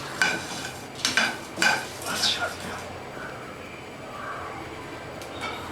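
Chaat masala spices dry-roasting in a pan at home, stirred with a few quick scraping sweeps up front, then a softer rustle and faint sizzle; someone speaks nearby.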